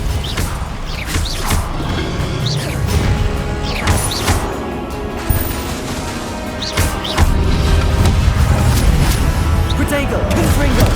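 Repeated Confringo blasting spell explosions in Hogwarts Legacy: loud crashes and thuds recur through a chaotic battle, mixed with mechanical clatter and shouted voices.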